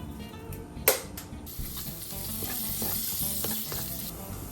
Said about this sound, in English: Now we're gonna go in with some olive oil, our garlic, and red pepper flakes.